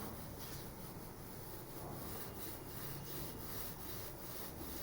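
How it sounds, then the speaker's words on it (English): A teacher erases a classroom board during a lesson, giving a soft, continuous rubbing and wiping that runs steadily throughout, fairly faint, with no voices. "I am also erasing my board"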